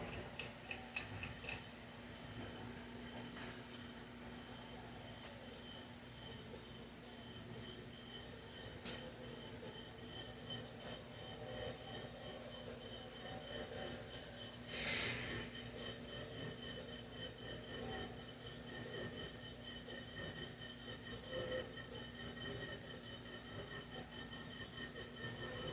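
A 52-inch Cheshire ceiling fan with a stamped steel motor runs on low while a blade scrapes against its housing, giving a steady rubbing, rasping drone under a low motor hum, with one louder scrape surging midway.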